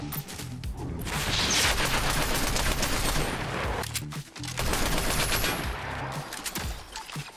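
An automated turret in Fortnite fires sustained rapid bursts, a dense loud rattle that runs for seconds, breaks briefly, then resumes just as intensely.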